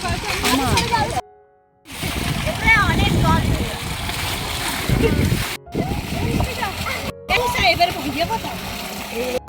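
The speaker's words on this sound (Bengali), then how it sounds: "পিছনে জল ছুড়ো না" Water thrown about and splashing in irregular bursts, close and loud, mixed with excited voices talking and shouting over it, broken by a couple of brief silent gaps.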